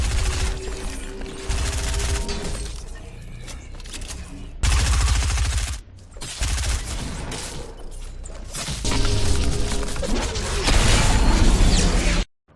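Gunfire during a Fortnite solo fight, rapid bursts of shots and booms in several loud segments separated by brief sharp cuts, with game mechanisms clattering between volleys and no speech.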